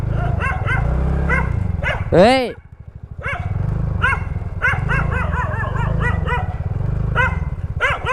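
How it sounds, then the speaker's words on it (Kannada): Several household dogs bark sharply and repeatedly at close range, with growls between the barks, over the low steady hum of an idling delivery motorcycle, while someone shouts and talks. "ಇಲ್ಲಿ ಸಾಕಿದ್ ನಾಯಿ ಇವು."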